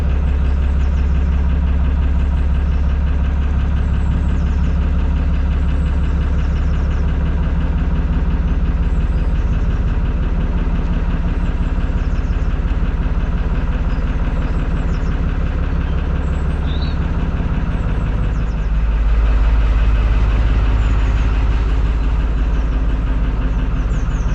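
A canal boat's diesel engine runs steadily at a low idle-like throb, close and loud, unchanging for the whole stretch with no talking.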